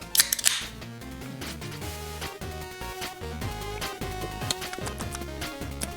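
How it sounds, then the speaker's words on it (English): A can of Diet Cola cracks open as a sound effect in the video game La-Mulana 2: a sharp crack with a short fizzy hiss at the start, then steady game music carries on underneath. "It's time. Yeah, cracking a cold one."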